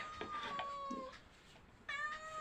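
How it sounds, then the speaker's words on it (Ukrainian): A hungry cat meows repeatedly, a few short rising cries close by followed by a longer, louder meow, over a quiet indoor background. "Кіт їсти хоче теж."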